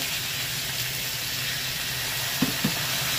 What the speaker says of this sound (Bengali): দিয়েছি হলুদ গুঁড়ো, আর একটু জল দিয়ে কষাবো অল্প।